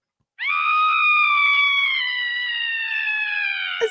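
A scream sound effect from a toy sound machine rings out as one long, loud, sustained shriek that slowly sags in pitch, close and alone, cut off by a click at the end.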